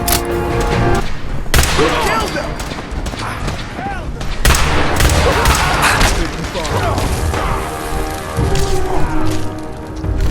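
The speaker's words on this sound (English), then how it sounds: "Sir, one of them has a minigun. Yeah, I can hear it." Sustained, loud gunfire from a minigun fills a Fallout 4 battle, with booming impacts and explosions layered over it while voices shout through the chaos.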